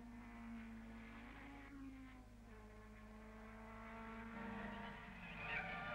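1961 racing cars, BRM and Cooper, on a circuit, faint engine notes rising and falling in pitch as cars pass and change gear, under a steady background hum.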